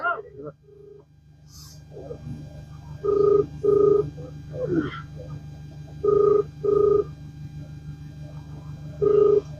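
A telephone rings in repeated paired bursts at steady intervals, with a low hum underneath and some faint background activity.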